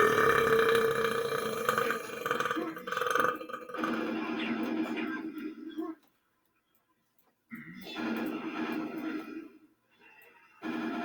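A man belches repeatedly while playing the shooter game Quake on Nightmare skill, with long, loud, gravelly burps that stop for a short silent gap and then return.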